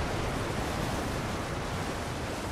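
Waterfall in the video game Elden Ring: Shadow of the Erdtree, a dense, steady roar of rushing water that fills the scene evenly and loudly with no breaks.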